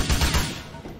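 Rapid burst of gunfire in Grand Theft Auto IV, a loud close volley of several shots in quick succession, tailing off within a second.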